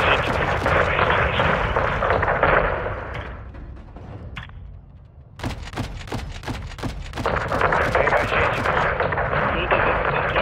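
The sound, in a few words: 40 mm cannon fire in Call of Duty Modern Warfare 2 video game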